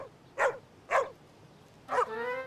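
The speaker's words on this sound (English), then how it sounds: "I can't find the spotted puppy, Mr. Hinkle." Puppy barking in three sharp yips, two short and evenly spaced, then a longer whining bark with a clear pitched tone, close and alone in a quiet room.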